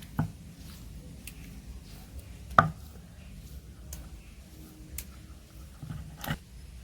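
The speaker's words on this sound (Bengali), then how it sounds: "গোটা গরম মশলা বেটে নিচ্ছি" Whole garam masala spices being ground by hand on a grinding stone, with soft scraping and irregular thuds, one sharper knock standing out, close and fairly quiet.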